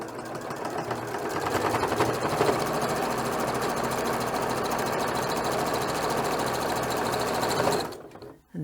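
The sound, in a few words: sewing machine stitching scrubbing pad edge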